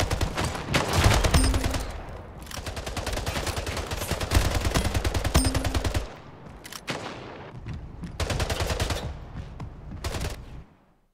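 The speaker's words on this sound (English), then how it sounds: "That assault rifle, I think it's an assault rifle. It's pretty good." Rapid assault rifle fire in the arena shooter Splitgate, loud sustained automatic bursts with brief pauses between them, dense and close.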